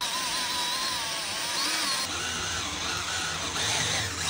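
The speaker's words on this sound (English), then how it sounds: "Now we're going to drill some holes from the side going in at an angle" A power drill bores angled holes into a wooden block for a carpenter bee trap, a steady whining motor drone with shifting pitch running continuously, close and fairly loud, with no talk.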